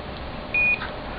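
A digital multimeter set to its diode range gives a single clear electronic beep of about a fifth of a second, steady in pitch and standing out above a low background hiss, with no talking.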